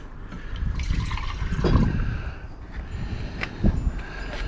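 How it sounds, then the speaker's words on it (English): Distilled water is poured into a container for gold refining, a soft uneven trickle and splash with a few brief drips and clinks, close and moderately loud. "put some distilled water in there"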